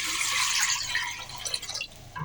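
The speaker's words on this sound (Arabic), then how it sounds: "هسه هاي نذب المي مالتنا" Water pouring into a cooking pot to start homemade plum juice, a steady hissing, splashing stream that is loud and close, then turns uneven and gurgling toward the end.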